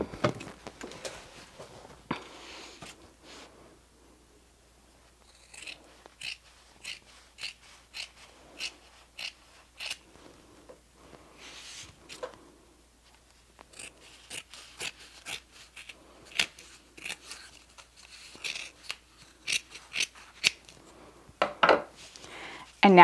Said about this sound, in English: And now I'm actually gonna grab some scissors and trim this so it'll be a little easier.